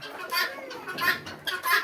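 Tiger breed chickens cluck in short bursts close by on a poultry farm, several hens calling in uneven rhythm with no talking.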